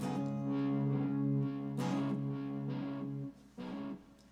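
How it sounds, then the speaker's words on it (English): An electric guitar plays through a looper with a heavy echo effect. Sustained, buzzy notes ring and overlap as repeats trail behind each phrase, then the sound cuts off briefly and returns near the end. "Wow, that's a lot of echo."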